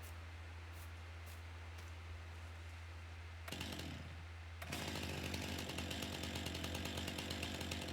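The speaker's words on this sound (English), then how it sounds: "we are going to get going with the chainsaw." Chainsaw cutting in a tractor rescue roleplay video game, a steady buzzing drone over constant background hiss, louder and rougher after a brief burst of cutting, no talking.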